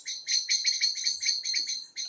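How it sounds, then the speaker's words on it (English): Blackbirds give rapid, repeated high, sharp mobbing calls near a nature hide at night, a steady run of about ten chattering bursts, fairly close and clear with no talk. "the blackbirds are still mobbing them"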